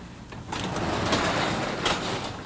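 A door in an old house is slid or pushed open with a scraping, rumbling rush that swells and peaks twice over a couple of seconds.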